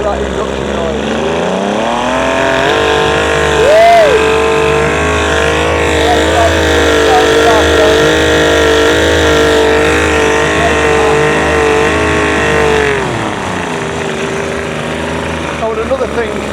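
A rebuilt Yamaha 75hp outboard uprated to 90hp is run up, its engine note climbing and holding a loud, steady roar with strong induction noise before dropping back to idle, with someone talking over parts of it.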